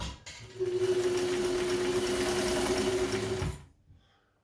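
A vintage Kenmore 540 sewing machine runs steadily for about three seconds at its longest stitch length, a loud, close mechanical hum that then winds down to quiet.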